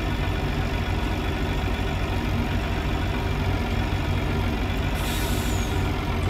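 Farming Simulator 19 truck reversing, with a steady, loud diesel engine drone and a sharp air brake hiss bursting in near the end.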